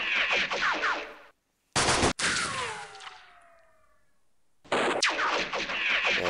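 Bursts of gunfire in a World War II strategy game, rapid dense volleys that stop abruptly, a sharp blast with a long ringing decay, then another sustained burst of shots, loud and close.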